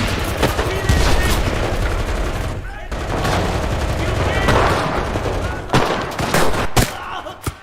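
Loud, dense gunfire from the Enlisted video game, with machine-gun bursts and scattered shots filling a battlefield almost without pause and a few sharper cracks near the end.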